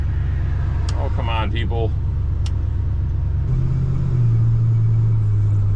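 A 1978 Dodge Ram crew cab truck rumbles loudly under a man's brief spoken remark, then its engine rises and shifts to a higher steady drone as it pulls away through the gears.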